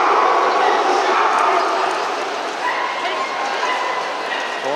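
Dogs bark and yip amid a dense, noisy crowd at a Bernese Mountain Dog show in Paris, with voices talking throughout.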